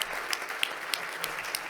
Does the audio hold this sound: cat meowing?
no